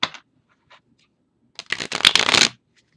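A few soft card taps, then a single riffle shuffle of a Golden Art Nouveau tarot deck, a rapid papery flutter lasting under a second, close and clear.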